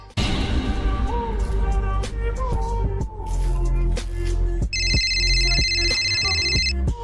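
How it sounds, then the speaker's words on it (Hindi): An incoming-call phone ringtone plays as a bright, repeating electronic melody for about two seconds near the end, layered over steady background music. "क्या बात है तान्या, तुम बार बार मुझे फोन क्यों करती रहती हो?"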